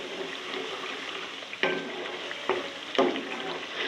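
Masala with yogurt for sarson ka saag sizzles quietly in a pan under a steady crackle, while a spoon scrapes through it in three distinct stirring strokes.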